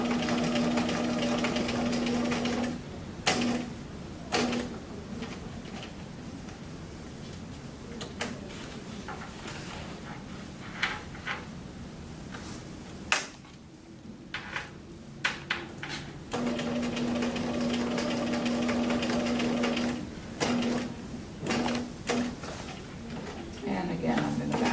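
A sewing machine top stitching a shirt cuff hums in two longer runs at the start and later on, with a person talking over and between the stitching.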